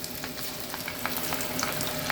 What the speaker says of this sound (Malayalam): ഇതാ ഏകദേശം നമ്മളെ ആ സോസേജ് ഫ്രൈ ആയിട്ടുണ്ട്